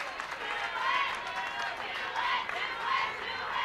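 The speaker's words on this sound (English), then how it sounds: "Crowd getting excited." A softball stadium crowd at a UCLA versus Arizona State college game swells with excited cheering and shouting, a broad, slightly distant roar that rises and falls with no distinct talk on top.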